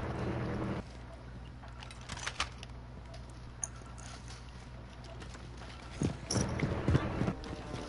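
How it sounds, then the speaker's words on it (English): Footsteps in a multiplayer shooter video game tap in an irregular series, with a quiet stretch followed by a louder burst of rapid steps near the end. "I hear footsteps."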